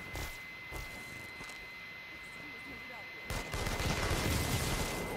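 Video game gunfire in Infamous Second Son: a few sharp shots crack under a steady high-pitched tone and game ambience, then a louder, denser burst of fire takes over in the last seconds.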